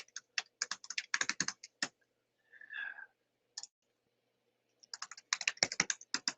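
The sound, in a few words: typing on a computer keyboard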